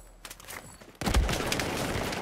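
Gunfire in Battlefield 4: after a second of quiet game ambience, a loud, sudden burst of rapid shots erupts up close and keeps rattling to the end.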